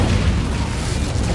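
An Incendio fire spell cast in Hogwarts Legacy, a loud, dense roaring burst of flame that fills the whole short moment without any pause.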